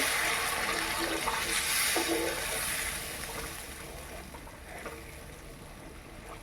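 Water pours from a bowl into a pan of egg curry gravy, a continuous splashing gush that is loud at first and then settles into a softer, steady trickle.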